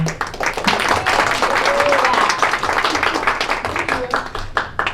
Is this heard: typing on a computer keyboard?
no